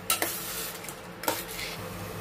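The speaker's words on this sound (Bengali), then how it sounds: "এরপরে এইভাবে নাড়তে হবে।" A spoon stirs chana dal in a pan: two or three close scraping strokes over a soft sizzling background, with no voices.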